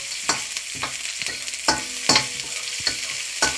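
Chicken chilli is stirred in sizzling hot oil, with a spoon scraping the pan in irregular strokes over a steady frying hiss, close by with no talking.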